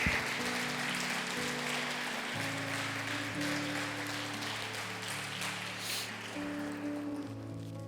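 Church congregation applauding together, a steady, dense wash of clapping sustained throughout, with organ or keyboard chords held underneath.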